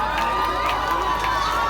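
An audience at a school science and arts exhibition cheers and claps for a prize winner, a lively crowd with excited shouting and children's voices over scattered applause, close and loud throughout.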